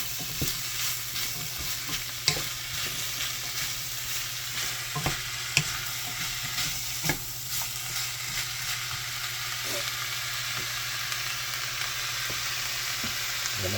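Sautéed bottle gourd (upo) with chicken sizzles steadily in a hot pan while a utensil stirs it, scraping with occasional sharp clacks against the pan, close and continuous with no talk.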